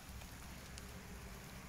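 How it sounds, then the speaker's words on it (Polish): Steady rain falls during a night thunderstorm over Olsztyn, a quiet, even hiss of drops with no talk over it. "No i teraz już pada"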